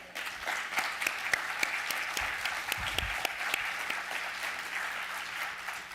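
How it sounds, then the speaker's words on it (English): Steady applause from an outdoor audience at a school dedication ceremony, many hands clapping at an even level for the full stretch, with no voices standing out above it. "A round of applause for our staff that have been working on this project, both retired and not retired."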